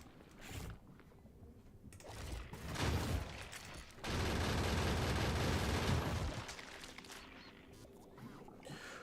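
Automated turrets in the Factorio game fire on attacking biters, a dense rattling burst of rapid shots that swells loud for a couple of seconds, dips, then returns as a sustained heavy volley before fading to quieter mechanical clatter.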